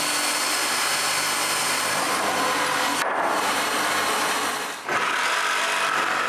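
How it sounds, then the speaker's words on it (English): A power drill bores holes through the corners of a wooden bandsaw base, a loud, continuous whirring grind that briefly cuts out twice as each hole is finished and the next is started. "I drill a hole in each corner."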